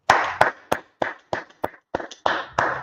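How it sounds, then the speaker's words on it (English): A class audience claps in about ten distinct, fairly loud hand claps, spaced roughly evenly across a few seconds rather than in a continuous ovation. "Let's clap it up."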